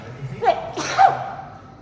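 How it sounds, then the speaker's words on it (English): One person lets out a single close, loud sneeze after a brief gasping intake of breath. "I'm going to sneeze."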